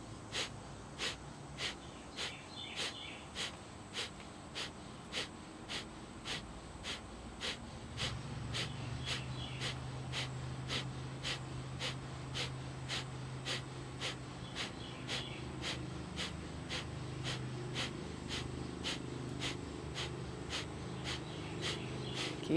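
Rapid pumping breaths during a breathing exercise, a steady run of short, even puffs about two per second, close and clear over a low background hum that rises partway through.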